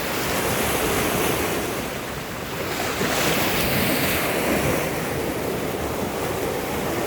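Sea waves surge and break continuously with strong wind buffeting the microphone, a loud, dense roar close by that never lets up.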